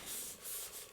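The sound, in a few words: burnishing glued paper pocket for journal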